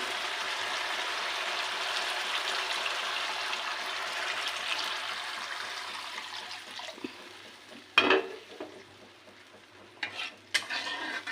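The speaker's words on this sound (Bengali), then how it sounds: "যে বাটিটার মধ্যে আমি দই ফেটিয়ে রেখেছিলাম সেইখানে একটু জল দিয়ে জলটা মিশিয়ে দিচ্ছি" Water poured into a bowl of whisked yogurt and stirred in: a steady watery swishing that fades, followed by a few sharp clinks of a spoon against the bowl.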